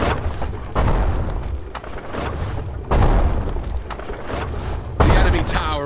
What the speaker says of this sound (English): Begin bombarding.